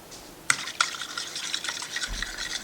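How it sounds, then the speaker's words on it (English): A spoon stirs and clinks in a bowl of yeast and sugar mixture, with a few sharp taps against the side followed by continuous light scraping and swirling. "I'm just trying to mix it up and make sure the yeast and the sugar is all mixed up and dissolved"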